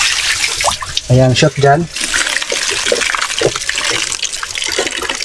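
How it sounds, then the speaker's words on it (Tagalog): Water flows and trickles into a drainage hole in a native pig pen with a sand floor, a steady splashing wash under close talk throughout. "Diretso dito sa butas. Yung tubig niyan, hindi aapaw."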